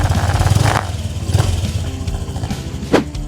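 A Honda Vario 125 scooter engine runs close by with a steady, fairly loud drone. Brief revving surges rise above it, and a sharp clatter comes near the end.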